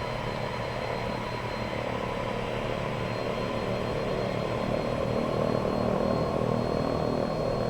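Twin propeller engines of an Embraer 110 in the X-Plane 10 flight simulator, a steady loud droning hum with a constant buzzing tone that holds evenly throughout, no voices.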